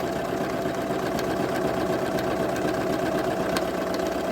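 A Husqvarna Viking Jade 20 sewing machine stitches a buttonhole, its motor whirring and needle chattering in a steady, continuous drone close by.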